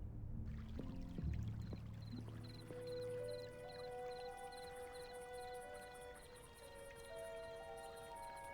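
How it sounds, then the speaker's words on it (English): Water pours into an empty plastic bottle in the video game Black Mirror 3. The gurgling fill rises steadily in pitch as the bottle fills, continuous and close, with no talk. "The bottle is now full of water, but I wouldn't drink it."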